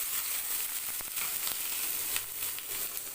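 Garlic, coconut, ginger, tomato and onion sautéing in hot oil for an egg curry, giving a steady close sizzle with a few faint stirring clicks and no voices.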